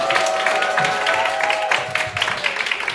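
An audience at a Korean company lecture gives sustained applause for the speaker, a dense steady patter of many hands with a few tonal voices or sounds running beneath it, continuous and fairly loud throughout.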